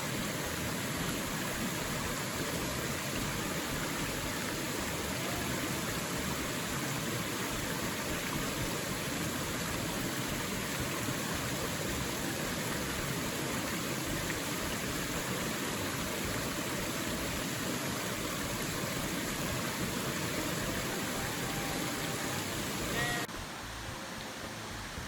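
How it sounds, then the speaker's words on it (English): A hiking trail creek crossing near Margarette Falls in Greeneville, Tennessee, with water rushing steadily and evenly close by, no voices, and a slight drop at the very end. "here's our creek crossing"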